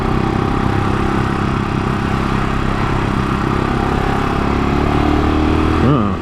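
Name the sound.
motorcycle engine while riding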